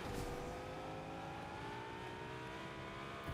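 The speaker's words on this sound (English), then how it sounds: "Let's get in this car and drive on to" A car engine drives in Fortnite Zero Build, a steady close hum that climbs slowly in pitch as the vehicle accelerates and stays loud and continuous from start to finish.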